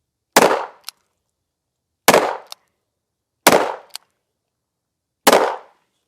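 Four sharp pistol gunshots from a .40 Smith & Wesson Lipsey's Blackhawk revolver crack out at an outdoor range, spaced irregularly, each loud close report followed by a quick metallic ping.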